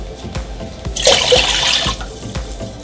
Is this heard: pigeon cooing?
no